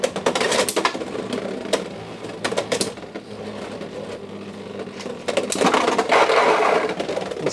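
Beyblade X tops spin and clash inside a Hasbro Xtreme Stadium, giving a whirring grind broken by sharp clacking impacts, with a louder rattling flurry near the end.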